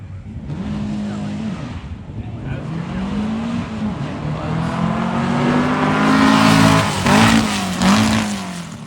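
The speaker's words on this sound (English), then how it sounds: "And McCoy made it through the first 2 gears, but you could hear that he had some problems with third" A loud drag race car engine roars as it accelerates, its pitch climbing and then dropping at each gear change, with a rough, strained sound in third gear near the end.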